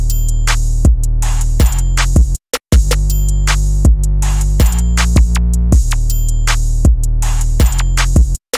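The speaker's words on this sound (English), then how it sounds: "And the whole drum pattern should sound something like this." A simple linear trap drum pattern programmed in FL Studio with a deep 808 bass: punchy kicks and booming 808 notes with crisp hi-hats and snares in a steady bouncing loop, loud and close, with a brief dropout near the middle.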